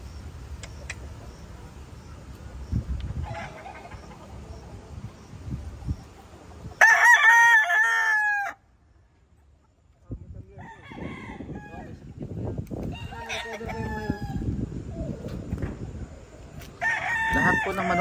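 Gamecock roosters on a small farm in Calamba, Laguna, Philippines crow loudly and repeatedly close by, with clucking fowl and a busy farmyard murmur between calls.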